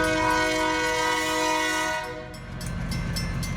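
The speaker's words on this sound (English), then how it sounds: "A long tank car train." A long freight train of tank cars rolls past at a house in New Columbia, Pennsylvania, its horn sounding loud and sustained with layered tones over a steady rumble, then fading as the rolling noise carries on.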